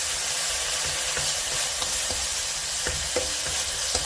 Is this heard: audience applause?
no